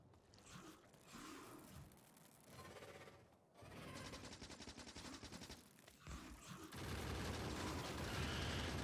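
Gun turrets fire in Factorio, a steady mechanical rattle of rapid shots in long bursts, quiet and continuous with brief pauses, building to a denser, louder barrage.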